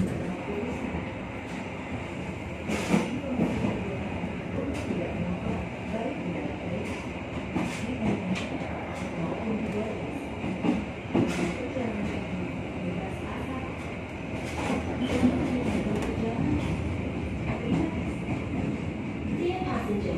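Argo Bromo Anggrek passenger train running on rails toward Surabaya Pasar Turi, heard from inside the carriage as a steady rumble with rhythmic clicks from the wheels.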